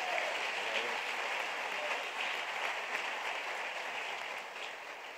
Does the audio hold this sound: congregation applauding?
yes